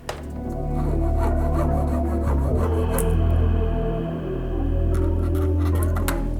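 Hand sawing through the handlebar grip tube on a BMW M1000RR, a steady rasping back-and-forth stroke running continuously at close range with no talk.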